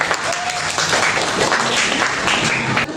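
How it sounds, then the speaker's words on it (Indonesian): A class of students in a lesson on sujud syukur applauds, with steady, dense hand clapping filling about three seconds at fairly close range and a few voices faint underneath. "Kasih tepuk tangan."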